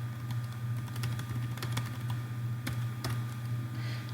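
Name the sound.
typing on computer keyboard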